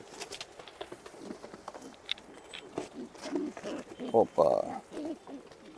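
Large-breed pigeons coo and flutter close by in a loft while someone speaks over them, with soft wing patter and a couple of louder bursts of flapping near the end.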